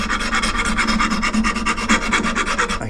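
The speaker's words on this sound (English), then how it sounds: "Not a rasp, but a file. Rasp is way more aggressive, of course." A fine file, not a rasp, shaping the contoured wings of a wooden guitar bridge, loud rhythmic rasping strokes in quick even succession, close and alone.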